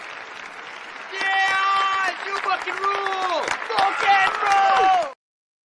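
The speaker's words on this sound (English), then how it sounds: "Here, let me give you claps for that." Applause with scattered whoops and cheers from a crowd, the clapping swelling and running steadily for a few seconds under a strong tonal music-like layer, then cutting off abruptly.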